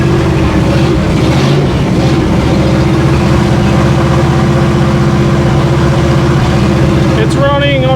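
A 1937 Ford pickup engine running on its own fuel, a loud, steady rumbling idle close by with a constant low drone, and a voice talks over it briefly near the end.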